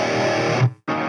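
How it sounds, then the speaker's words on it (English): Harsh, heavily distorted electric guitar tone through an overloaded Master Effects EQFH Pro EQ pedal, loud and saturated, cutting out abruptly for a split second before the buzzy overdriven sound returns. "We're getting bad distortion."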